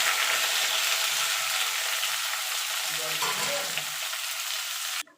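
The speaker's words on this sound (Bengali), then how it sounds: "দিয়ে সবজিগুলো আমি মিনিট 2 ধরে একটু ভাজা ভাজা করে নেব" Papaya and green banana pieces frying in a pan, a steady close, loud sizzle that runs unbroken for about five seconds before cutting off abruptly.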